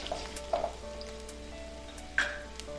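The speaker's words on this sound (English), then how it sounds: "Swirl in vegetable oil. Sauté garlic for 30 seconds." Garlic sautéing in vegetable oil in a hot wok for zucchini and egg fried rice, a quiet steady sizzle with a couple of sharp clinks from a utensil, no talking.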